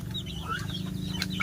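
Chickens raised at home cluck in short, repeated calls against a steady low background hum, close and fairly continuous through the brief moment.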